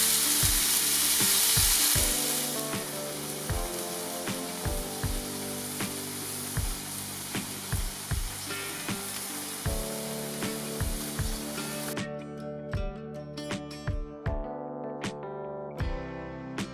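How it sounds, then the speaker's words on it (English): Beef searing in a pot for beef bourguignon on a Joe Jr grill: loud hissing sizzle at first that settles into a steadier fry, punctuated by regular sharp knocks of a utensil against the pot. "we'll just literally sear that off, so brown it all over"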